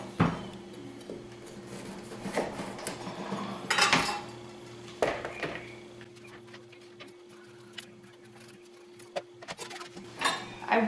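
A large knife cuts through a squash on a board, producing scattered knocks, scrapes and clatters of blade and cutting surface, irregular and fairly close, over a quiet background hum.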